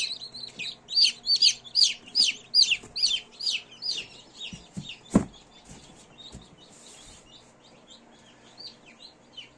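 Newly hatched chicks in a home incubator peep in a rapid, bright series of high chirps, loud at first and then thinning to scattered faint cheeps, with a single sharp knock midway.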